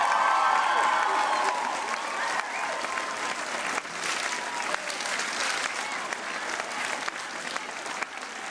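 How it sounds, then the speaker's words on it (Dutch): Sustained applause from a large Songfestival audience, dense and steady throughout, tapering slightly after the first seconds with no talk over it. "En dan nog een applaus"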